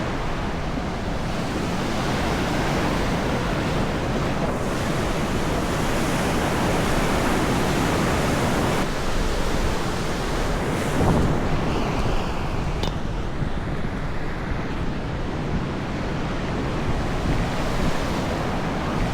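Ocean waves roll in at a beach beside a footpath in Las Palmas, Spain, a continuous loud wash of surf mixed with wind buffeting the microphone, with no talk.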